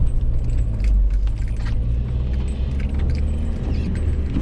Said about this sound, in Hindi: क्लच का इस्तेमाल करते हुए गाड़ी निकालनी पड़ रही है